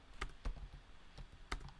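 Keys tap on a computer keyboard during a Python Wordle game, a handful of sparse, crisp clicks at uneven intervals, close and fairly quiet.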